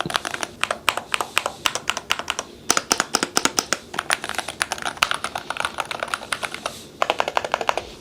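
Rapid clacky typing on a Syntech Chronos68 mechanical keyboard, close and crisp, with a couple of brief pauses between bursts of keystrokes.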